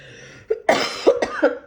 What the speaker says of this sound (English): I'm about to cough up some almighty phlegm